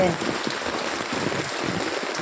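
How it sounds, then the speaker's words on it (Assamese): Heavy rain hisses steadily onto surfaces nearby, a dense unbroken patter throughout the short stretch with no talking. "চাওকচোন বৰষুণৰ পানীবোৰ ইমান ভাল লাগিছে"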